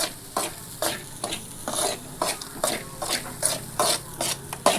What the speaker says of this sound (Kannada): ಲೈಟಾಗಿ ಅಷ್ಟು ಹುರ್ಕೊಳತ್ತೇನೆ ನೋಡಿ ಫ್ರೆಂಡ್ಸ್ ಸ್ವಲ್ಪ ಅಕ್ಕಿನ ಹುರ್ಕೋಬೇಕ್ರಿ